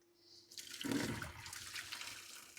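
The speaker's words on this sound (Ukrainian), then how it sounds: "І потрібно злити з неї всю воду." Water pours off a pot of boiled young potatoes, a steady rushing splash that swells after a faint start and continues loudly and unbroken to the end.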